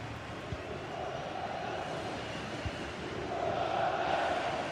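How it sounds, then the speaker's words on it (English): Stadium crowd in a football video game, a steady distant roar of fans that builds slightly louder toward the end, with faint thuds beneath. "The crowd certainly think so. Just listen to that noise."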